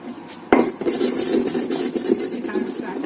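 Spices and salt are ground in a mortar with a pestle, producing steady scraping and grinding strokes with a sharp knock at the start, continuing rhythmically throughout.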